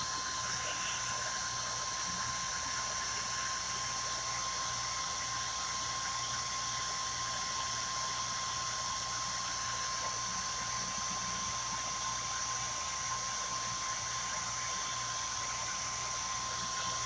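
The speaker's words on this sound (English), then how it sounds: "Let me get my dryer out." Hand-held hair dryer blowing steadily to dry chalk paste on a stenciled craft piece, a continuous even whoosh with a faint steady whine running unchanged throughout, no talk.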